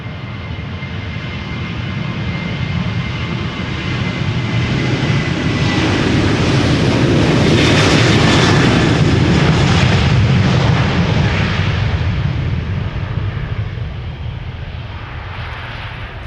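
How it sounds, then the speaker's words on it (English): A 14-year-old Transavia Boeing 737-800 departs Amsterdam Schiphol, its deep, rumbling jet roar swelling to a loud, crackling peak midway, then easing off while staying strong, no voices. "Transavia flight 6001 to Portugal, 737-800, 14 years old, first flight June 2010."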